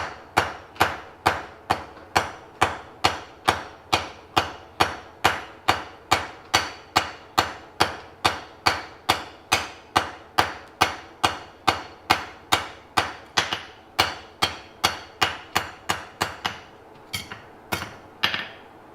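A hammer forges hot metal at an anvil with a long run of evenly spaced, sharp ringing strikes, close and loud, the blows thinning out at the end.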